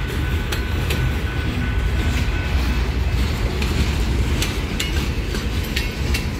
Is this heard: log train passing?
yes